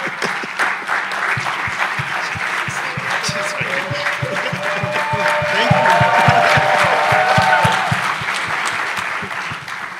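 An audience at the Africa Forum on Displacement 2025 applauds a standing attendee, dense sustained clapping with cheers and voices rising in the middle, loud and close throughout.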